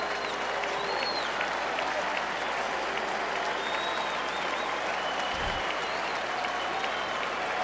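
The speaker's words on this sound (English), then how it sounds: "Big round of applause for Lance Lynn." A large baseball stadium crowd at a Toronto Blue Jays vs Chicago White Sox game applauds steadily and loudly, a dense wash of clapping with scattered cheers throughout.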